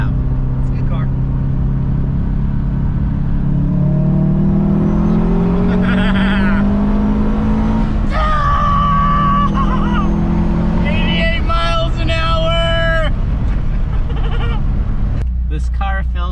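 A Subaru RS car engine drones loudly and continuously while driving, its pitch rising and falling with gear changes, with a voice speaking briefly over it.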